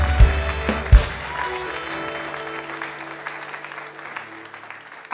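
Church congregation applauding during a fervent worship service, a steady wash of clapping from many hands with a few louder bursts near the start and end.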